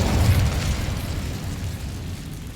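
A fiery Incendio spell blast in Hogwarts Legacy, a loud whooshing burst with a deep rumble that slowly fades.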